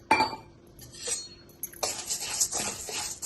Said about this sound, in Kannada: ಇವಾಗ ಉದ್ದಿನಬೇಳೆ ಹಾಕ್ತಾಯಿದ್ದೀನಿ